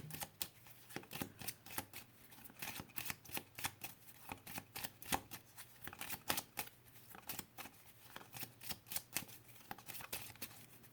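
Tarot cards being shuffled and drawn at close range, a quiet run of rapid riffling bursts and crisp flicks repeating throughout.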